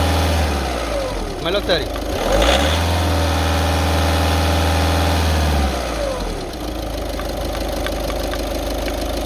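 A 2018 top-end Volkswagen Vento diesel car engine idles, then is revved up hard around two seconds in and held at higher revs before settling back to idle, with people talking nearby throughout.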